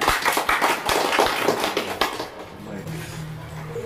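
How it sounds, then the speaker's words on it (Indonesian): Clapping from a church congregation welcoming the parish priest, a dense burst of hand claps that fades after about two seconds into quieter room sound. "Kita berikan aplaus yang meriah."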